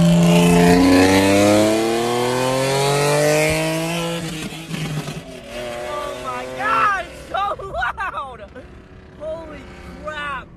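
A loud, modified Nissan 370Z with quad-tip exhaust revs hard, its engine note rising in pitch, then it drops into sharp blips and pops, with people talking and reacting excitedly over it.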